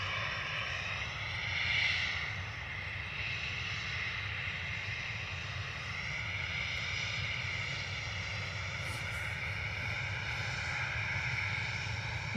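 A Ryanair airliner departs Dublin Airport, its steady engine roar sustained and fairly distant, swelling slightly early on with no voices over it.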